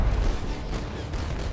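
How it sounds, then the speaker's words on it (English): Musket cracks and the roar of cannon fire from the pirate ship Hispaniola form a dense, loud, rumbling wash of battle noise that sounds without pause for a brief moment. "from the pirate ship Hispaniola, there's the crack of muskets and the roar of cannon."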